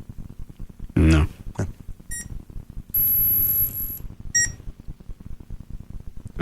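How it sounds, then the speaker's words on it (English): An electronic device gives a short beep, then a long sustained beep, followed by another brief beep, with people talking around the tones. "It goes little beep and then the long beep."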